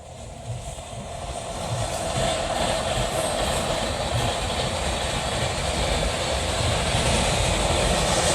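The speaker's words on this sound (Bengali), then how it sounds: "এই গাঁদা ফুলের মধ্যে দিয়ে যাবে এখন হাওড়া পুরী শতাব্দী এক্সপ্রেস" The Howrah Puri Shatabdi Express passing beside marigold flower fields at Khirai, building into a loud, continuous rumbling roar of rolling wheels and engine that stays close and steady to the end; no talking.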